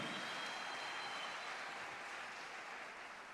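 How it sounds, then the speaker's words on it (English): Applause from a concert audience at a navy gala concert, a steady, even hiss of many hands clapping, heard fairly faint and distant and sustained for the whole stretch without a break. "a round of applause once again for Professor Kholane."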